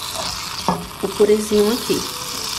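Margarine melts and sizzles in a pan with a soft, steady frying hiss close by, while someone talks over it.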